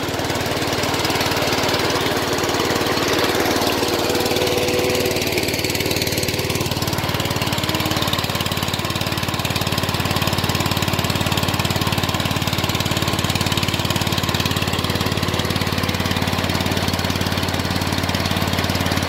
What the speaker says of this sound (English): There you have it. Cold start, 74-110.